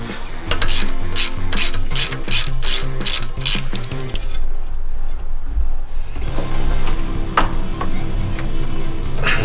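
A wrench ratchets while parts are removed from a 1980 Camaro Z28, a close, loud run of rapid clicking strokes followed by a pause and then steady mechanical grinding and rattling, with no talking.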